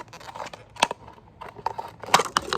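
Scissors snip through a plastic water bottle to remove its top, giving several sharp, crackly cuts in quick irregular bursts, close and fairly quiet.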